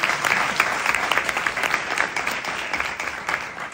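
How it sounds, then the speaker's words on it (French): Audience applause at a French startup presentation, a brisk round of clapping that starts strong and slowly thins out, with individual claps standing out toward the end. "applaudissez-la bien fort"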